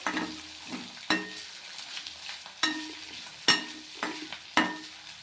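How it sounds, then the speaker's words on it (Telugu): Dried fish with turmeric being stirred and fried in a pan, giving a steady sizzle broken by several sharp scraping stir strokes at irregular intervals, close and moderately loud, with no talking. "ఎర్రగానే ఈ విధంగా వేపుకోవాలి."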